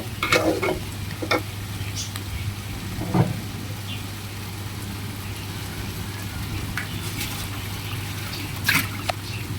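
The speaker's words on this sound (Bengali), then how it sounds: "ভালো করে নাড়াচাড়া করে ভাজা ভাজা করে তারপর আমি এটার সাথে পানি অ্যাড করব" Dal ingredients stirred and fried in a pan give a steady sizzle with occasional scraping strokes of a spoon, close by under a constant low hum, with no speech.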